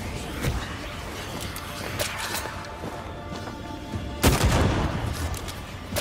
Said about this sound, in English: Nice shooting, Tex.